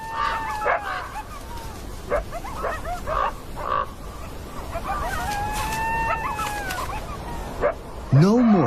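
Coyotes harassing a black wolf in the wild give out a run of yips, whines and whimpering howls, several rising and falling calls spread across the clip, with a narrator speaking over parts of it.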